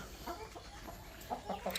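Hens in a small backyard flock of fourteen laying chickens give several soft, close clucks in a quick irregular sequence, growing a little more frequent toward the end against a quiet background.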